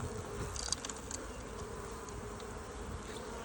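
Honeybees buzz around hive comb at an Alaska apiary in May, a steady close droning swarm with no talk.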